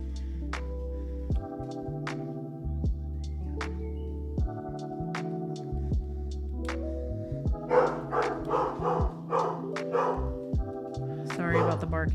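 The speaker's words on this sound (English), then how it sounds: "sorry about the barking" A dog barks repeatedly indoors behind background music during a live painting stream, with short yips scattered through the clip and a person talking over the later barks.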